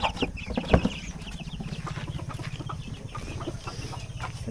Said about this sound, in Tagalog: Ang lalakas kumain ng mga sisiw namin.